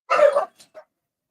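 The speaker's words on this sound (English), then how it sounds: "dogs are excited for you" A dog gives one sharp, close bark followed by a couple of softer short yips, then silence.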